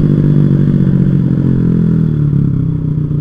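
A motorcycle engine with a faulty carburettor runs loud and close, a continuous uneven idle with a rough, faltering pulse that dips slightly toward the end.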